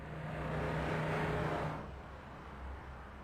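A big truck drives past on a road, captured by a distant CCTV camera: a broad rushing swell of engine and tyre noise with a low hum that builds, peaks, then fades away as it passes.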